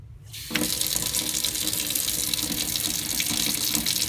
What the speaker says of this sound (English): you're going to go to the sink and you're going to use soap and water